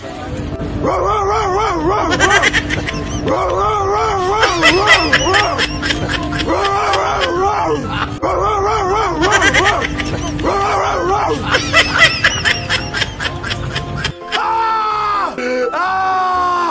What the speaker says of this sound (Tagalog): marining na may malaking aso sa loob ng pampasaherong bus